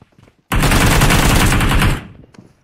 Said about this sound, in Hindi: gun fight gun fight gun fight